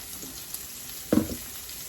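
Onions browning in a pan for a spaghetti and meatball sauce give a steady, soft sizzle, with one brief louder clatter of stirring near the middle.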